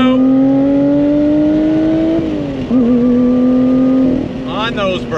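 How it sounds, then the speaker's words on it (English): A loud Lotus Evora GT sports car engine revs hard on throttle and climbs in pitch, dips briefly as it shifts, then pulls up again, with a person talking over it. "But let's go ahead and go on throttle again."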